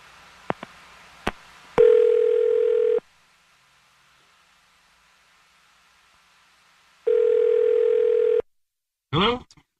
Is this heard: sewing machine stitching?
no